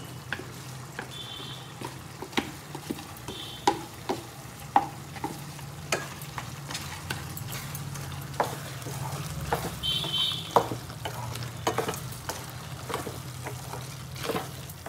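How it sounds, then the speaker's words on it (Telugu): Ground green chilli and cumin fry in a pan for chilli chicken, with a steady sizzle broken by frequent scraping stirs of a utensil, close up and without talk. "ఇందులో పచ్చిమిర్చి మనం మిక్సీ పట్టుకున్న పచ్చిమిర్చి, జీలకర్ర మనం వేసేసుకున్నాం."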